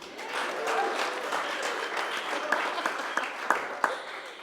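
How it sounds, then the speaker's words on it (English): Audience applause at a business pitch night, a steady wash of many hands clapping, with a few louder claps near the end; a voice briefly speaks underneath. "How about a round of applause for Lamar, huh?"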